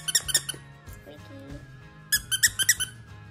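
A squeaky plush crab toy squeaks in short bursts, a few near the start and a quicker run of four or five loud squeaks toward the end, with a dog's toy play in a quiet room.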